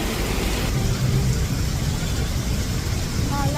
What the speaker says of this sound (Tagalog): So ayan, malakas yung ulan.